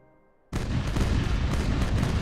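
An enemy ship fires its cannons in the pirate game Caribbean Legend. A sudden heavy boom breaks a near-silent moment and gives way to a sustained, dense rumbling roar of gunfire that fills the rest of the moment.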